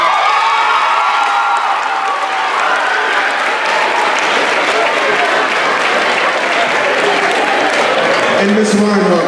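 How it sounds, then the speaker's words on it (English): Audience applause at an academic chair award ceremony, steady dense clapping from a large crowd with a few faint whoops, sustained at even loudness throughout. "So if you could we give a big round of applause, please, for Dr. Legaspi"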